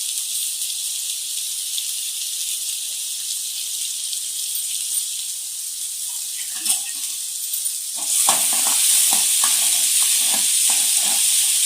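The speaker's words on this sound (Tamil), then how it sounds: "நல்லா வெங்காயம் பொன்னிறமாக வதங்குற அளவுக்கு வதக்கிக்கணும்." Onions, garlic and green chillies sauté in a pan for tomato kosthu, giving a steady close hiss that swells louder about two-thirds through, with soft stirring scrapes over the sizzle and no voices.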